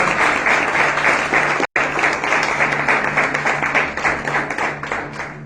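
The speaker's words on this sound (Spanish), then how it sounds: "Denle un aplauso al Señor." A church congregation claps and applauds together, a dense, sustained wash of hand claps that continues steadily with one brief dropout.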